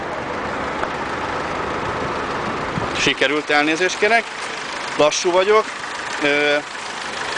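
A 2002 Opel Combo with an 88-horsepower, 1.6-litre, eight-valve petrol engine idles with a steady, even hum. The engine runs alone at first, then continues faintly under a man's speech.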